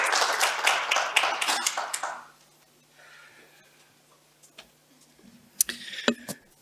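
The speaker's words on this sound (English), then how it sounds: "Should we give a little hand of applause" Conference audience giving a brief round of applause, loud clapping for about two seconds that stops abruptly, followed by quiet room tone and a few scattered faint taps and thumps.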